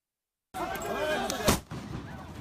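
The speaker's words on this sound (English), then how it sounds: "So that's the explosion." A police flashball grenade goes off at a Gilets Jaunes protest: one sharp, loud blast cracks out over a noisy crowd and street clamour, with voices heard and the noise continuing after the bang.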